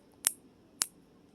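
Two crisp, sharp clicks sound from an adjustment lever on a fading hair clipper, about half a second apart, close and clear against near silence.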